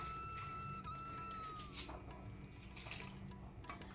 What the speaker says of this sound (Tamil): இந்த மாவை பிசையிறதுக்கு நம்ம ஹாட் வாட்டர் தாங்க ஊற்றணும்